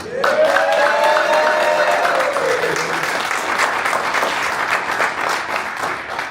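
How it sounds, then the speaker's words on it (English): An audience gives a homecoming guest a round of applause at a livestreamed Cal women's basketball preview event, with loud, dense clapping running steadily throughout and a brief whoop near the start. "let's give her another homecoming applause"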